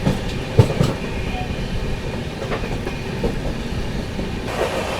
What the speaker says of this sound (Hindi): अभी अपनी गोवा संपर्क क्रांति स्किप करने जा रही है बमनिया रेलवे स्टेशन को